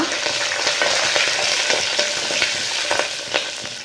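Four green chillies sauté in a hot pan for pepper-cumin rasam: a dense, continuous sizzle and crackle with occasional stirring clicks, close and loud, no talking.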